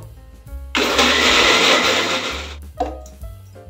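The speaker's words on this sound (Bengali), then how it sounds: "এটা মিক্সার গ্রাইন্ডারে মিক্স করে নেব।" A mixer grinder whirs loudly for about two seconds, blending a banana smoothie with ice, curd, sugar and lemon juice, followed by short rattling bursts as it stops.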